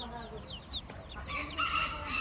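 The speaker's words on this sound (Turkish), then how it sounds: "Evet burada bir horoz var." Hens cluck and a village rooster crows nearby, its call rising clearly over a low, noisy background of farmyard rumble at a poultry market in Karaman.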